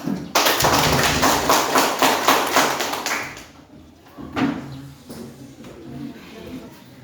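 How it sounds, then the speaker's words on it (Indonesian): In a junior high school classroom, students break into loud, rapid group clapping for three seconds, then it dies down, with only a few scattered claps and thuds left in a quieter room afterward. "Kita tepuk tangan untuk kelompok dua."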